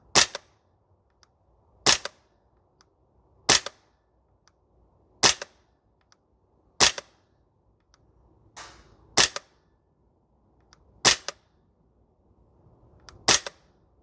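Archwick APC9K PRO gas blowback airsoft rifle firing single shots at an outdoor range, eight sharp close cracks spaced roughly every one and a half to two seconds, with quiet gaps between them.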